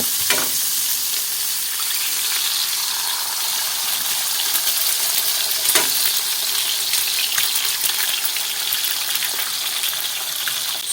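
Eggs frying in a pan for a cheeseburger breakfast, a steady close sizzle with faint crackles and a couple of soft clinks, no talking.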